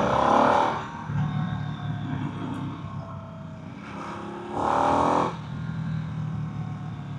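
A 2024 Harley-Davidson Nightster Special rumbles steadily on a short demo ride, its engine note swelling twice in louder surges over constant wind rush and road noise.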